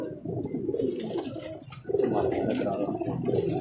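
Breeder pigeons cooing close by in a loft, soft throaty coos rising and falling in two bursts with a brief lull between, a few light chirps and rustles mixed in.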